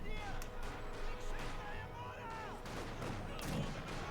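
Mortar and gunfire rumble in a Company of Heroes 2 battle between German and Soviet forces, with scattered thuds and crackling shots under continuous commentary from a caster.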